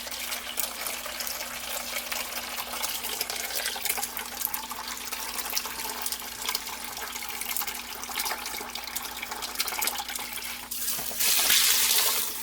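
Tap water runs steadily over dried baby lima beans in a colander, a continuous close splashing rush that swells louder near the end.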